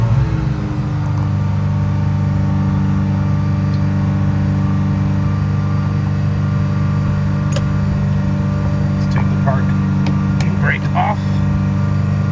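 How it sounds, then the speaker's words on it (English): Steady, close idle from a 1986 Ferrari Mondial 3.2 coupe engine warming up on a cold day, an even humming drone with a constant pitch and a few faint clicks and squeaks over it. "As it warms up, the idle comes down."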